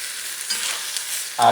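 A spoon stirs turmeric, smoked paprika, annatto, cumin and coriander into a Puerto Rican chicken breast stew, making a steady soft scraping sizzle that ends in a sharper clink, close and alone.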